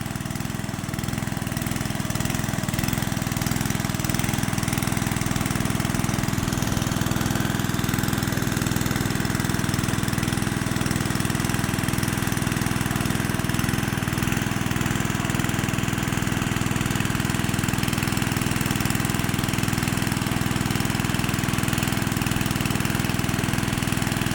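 Engine-driven water pump draining a pond beside rice paddies runs loud and steady throughout, a constant mid-pitched motor drone like a lawn mower engine, with no voices over it.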